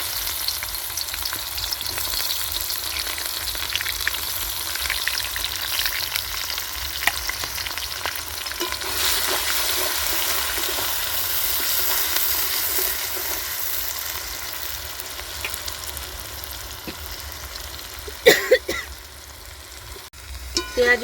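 Chopped onions hit hot oil with bay leaves in a pan for chicken pulao, producing a loud, continuous frying sizzle that holds for about twenty seconds, with a few sharp utensil clinks near the end.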